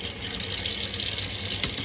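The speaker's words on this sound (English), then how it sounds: "Scrub them clean." Tap water runs steadily into a sink while raw crabs are scrubbed clean under it, a close, continuous splashing hiss.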